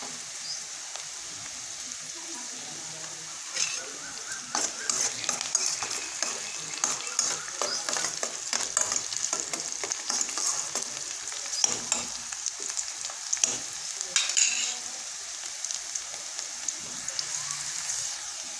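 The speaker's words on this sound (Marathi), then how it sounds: "हे पहा आपला असा कांदा भाजला गेलेला आहे" Onions fry in a pan with a continuous close sizzle, broken by repeated scraping and stirring strokes that come in an uneven rhythm.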